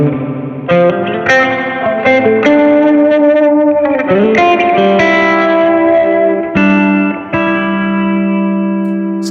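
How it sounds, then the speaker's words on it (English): Electric guitar played through a pedalboard with reverb blended in parallel with a phaser, loud sustained chords and single notes ringing out with swirling modulation and a long reverberant tail, no talking. "I'm now blending in the reverb in parallel with the phaser."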